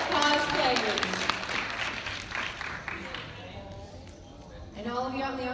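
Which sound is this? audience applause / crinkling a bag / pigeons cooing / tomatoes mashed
audience applause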